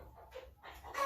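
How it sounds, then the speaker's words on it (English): A rooster gives a few short, faint clucks in quick succession inside a shop, each a brief nasal burst separated by quiet gaps. "I got a rooster over here on his tail"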